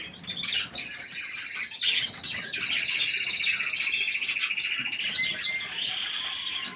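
Several small canaries chirp and twitter continuously in high, rapid trills, fairly close, with occasional softer background calls and rustling.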